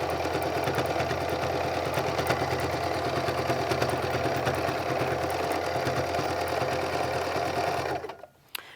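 A sewing machine stitches a fabric seam in a fast, steady, close mechanical whir that runs continuously before stopping abruptly near the end.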